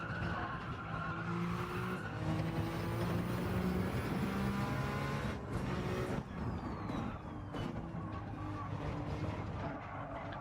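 A Peugeot Gr.1 race car corners at Spa in Gran Turismo 7, its engine droning steadily with rising and falling pitch sweeps and a brief tyre squeal, heard continuously at moderate level with no talk.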